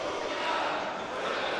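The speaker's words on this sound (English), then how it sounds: "they're cheering for Portugal." A crowd cheers at the Evo France 2025 fighting game tournament, a steady roar of many voices filling the hall with no pauses.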